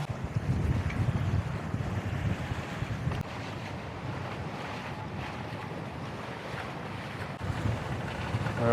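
A Lagoon 42 catamaran sails off Croatia in a brisk wind of about 15 knots, with steady wind rushing over the microphone and water washing along the hulls, continuous and close with no voices.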